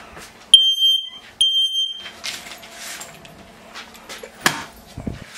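A smoke alarm set off by cooking gives two loud, piercing beeps close by in a home, followed by clattering and household noises.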